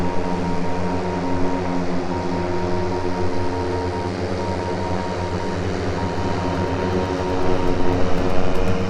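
A survey drone flies at a mapping site, giving a loud, steady motor and propeller drone with a broad whirring hum that swells slightly near the end.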